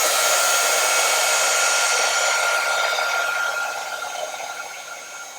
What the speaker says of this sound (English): So I'm just going to heat this. Just going to heat it up